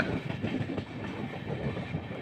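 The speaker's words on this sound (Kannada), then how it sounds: "ಫ್ರೆಂಡ್ಸ್ ಈಗ ನಮ್ಮ ಟ್ರೈನ್ ಚಿಕ್ಕಜಾಜೂರ್ ಜಂಕ್ಷನ್ ಒಳಗೆ ಹೋಗ್ತಿದೆ" Mysuru-Shirdi Express train rolling into Chikkajajur Junction, with a steady, close rumble and continuous clickety-clack of wheels over the rails, no voices.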